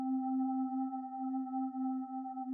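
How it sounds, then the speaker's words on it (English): A simple FM synth tone drenched in a doubled reverb for ambient music, holding one steady sustained note with clear harmonics and a long smooth decay, moderately loud and alone. "just like a simple FM sound. And then just with the double reverbs"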